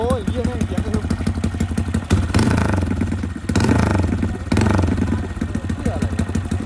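A small Honda Monkey 125 motorcycle engine runs nearby, rough and steady, swelling a few times as the throttle is blipped, with someone talking over it.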